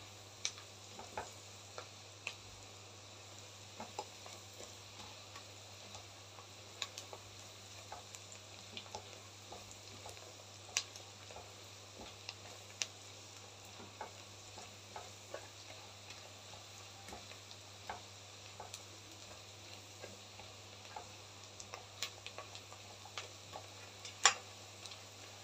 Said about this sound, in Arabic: فنبدأ بقى نحمر البصلايه معايا كده